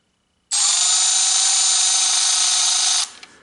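A Milwaukee 2560-20 extended reach electric ratchet runs in one continuous burst of about two and a half seconds, a loud steady high-pitched motor whir that starts abruptly and then cuts off, with a faint click after it stops.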